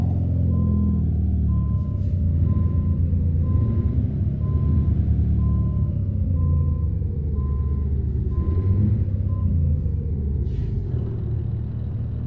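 Truck reversing alarm in Euro Truck Simulator 2, a steady evenly spaced series of beeps over a loud continuous engine rumble, with faint air-brake hisses, no talking.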